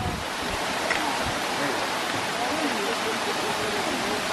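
Water cascading down Gorman Falls in Colorado Bend State Park, Texas, into a pool at the base, a steady, close, full-band rushing roar that holds constant throughout.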